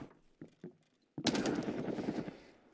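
Gunfire in the video game Escape from Tarkov (SPT): a few muffled thumps, then a sudden loud burst of rapid automatic shots with echoing tail, heard alone.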